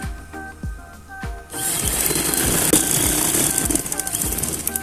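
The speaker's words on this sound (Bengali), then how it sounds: "কাপড়টা মাঝখান দিয়ে সেলাই করে নেব" A sewing machine stitches down the middle of a 2.5-inch fabric strip for a neckline design. A few soft thumps come first, then a loud, steady mechanical whir runs continuously to the end.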